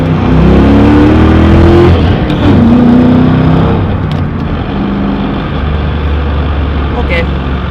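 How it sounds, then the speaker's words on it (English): A car pulls hard through second gear, its engine roaring loud and close at a steady, sustained pitch before easing slightly toward the end. "should we do a second or third gear pull?"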